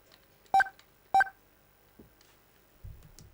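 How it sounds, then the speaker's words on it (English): Video phone dialing in the Snatcher video game: two sharp, loud touch-tone beeps about half a second apart, followed by a couple of faint soft blips. "Alright, let's use the video phone. Call. What number should I dial?"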